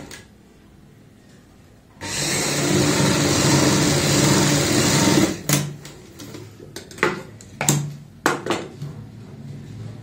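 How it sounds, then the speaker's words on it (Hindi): A sewing machine stitches a handmade travel bag: a steady, loud mechanical whir runs for about three seconds, then breaks into a scattered series of sharp clicks and clacks as the fabric is handled. "ऊपर से सिलाई लगा लेंगे"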